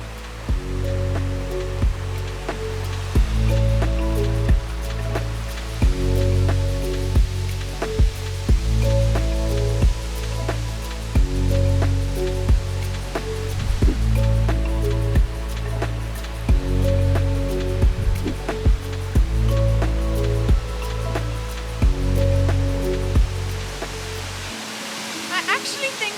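A river in Rugova Canyon near Whit Drin waterfall in snowy weather rushes as a constant broadband roar, with rhythmic music playing over it throughout before a hiss near the end.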